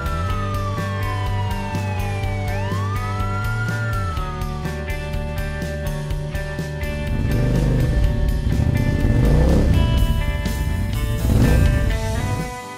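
A motorcycle engine revs in two loud bursts over a music track, following the fading tail of a siren glide. There is no talking.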